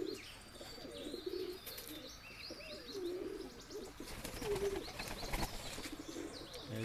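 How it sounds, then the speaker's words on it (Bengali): Young pigeons coo in a breeding loft, repeated low rolling calls from nearby mixed with occasional wing flaps and faint chirps over a steady background hum. "পায়রাগুলো দেখুন, সবই বাচ্চা পায়রা"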